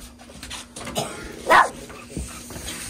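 A dog barks once fairly close against steady background noise, with faint whimpers and yips around it, indoors in a house during the Christmas season.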